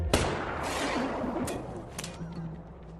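Gunfire from henchmen in The Book of Eli, a sharp shot cracking at the start followed by further bursts and echoing reverberant tail in a loud film scene.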